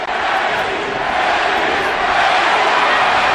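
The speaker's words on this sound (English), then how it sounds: "Pacquiao crowd chanting, Manny, Manny, Manny." A boxing arena crowd at the Pacquiao vs Morales fight chants loudly and steadily, a dense wall of many voices filling the hall throughout.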